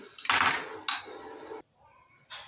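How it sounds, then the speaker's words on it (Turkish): Yogurt whisked in a bowl with a utensil: two bursts of quick clinking and scraping against the dish, loud and close, then a pause and a brief fresh start. "Bir kasede yoğurt iyice çırpıyorum"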